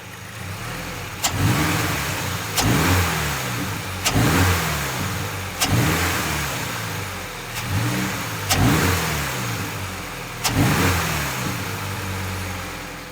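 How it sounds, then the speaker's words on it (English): A Toyota GR86 fitted with a GR air intake, heard close to the airbox: the engine is blipped about six times in a row, each rev rising and falling back to idle, with a strong induction roar. "it seemed like you could hear a little bit of the induction sound with the microphone"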